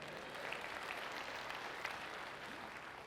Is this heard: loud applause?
yes